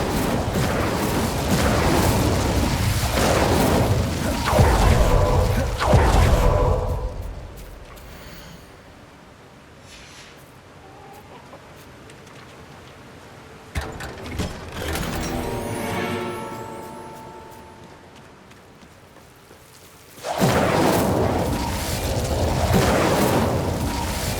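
Fiery spell blasts from Confringo and Incendio cast in the Hogwarts Legacy game, loud bursts at the start and end separated by a quieter stretch with a brief crack and rumble in the middle.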